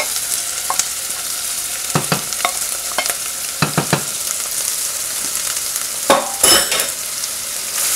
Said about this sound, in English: I'm going to add the meat now